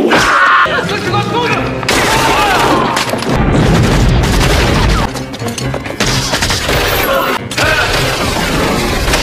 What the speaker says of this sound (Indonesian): hingga terjadilah baku tembak di sana